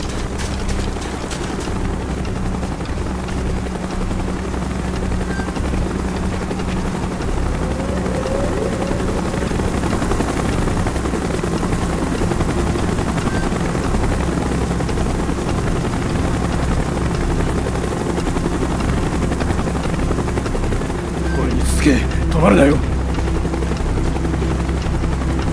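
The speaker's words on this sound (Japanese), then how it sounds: "ヘリ接近、急げ。" A helicopter's rotor drone fills the scene in the Call of Duty: Black Ops campaign mission "Executive Order", a steady, thick chopping hum throughout. A brief sharp burst cuts through near the end.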